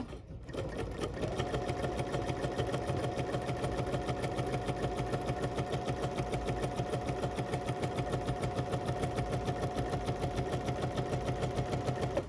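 A sewing machine stitches an embroidery sampler block with its presser foot lowered, running in a steady, fast, even mechanical whir that stays loud and close for the whole stretch after a brief quiet start, with no talking.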